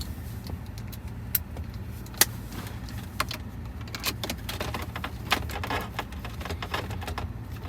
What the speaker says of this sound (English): now we're just gonna screw it right back in